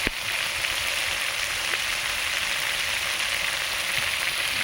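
Spices and turmeric sizzle in a little oil for a rohu fish and potato curry, a loud, dense, steady hiss that carries on without a break.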